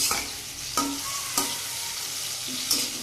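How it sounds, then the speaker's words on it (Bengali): Taro curry is stirred in a pan, with a continuous close sizzle and four distinct scraping strokes of the spoon spaced about a second apart; no one speaks. "এবার একটু নেড়ে চেড়ে জল দিয়ে দেবো।"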